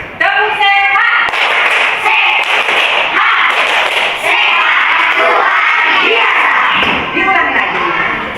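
A group standing in a school coaching session performs the tepuk sehat rhythmic clapping chant, with voices calling out in unison between sharp, loud claps, close and lively.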